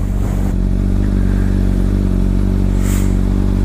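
A Ducati 1199 Panigale S with a race-oriented ECU tune and jerky throttle runs with a steady, loud, low engine drone, plus a brief mechanical clatter early on. No voices.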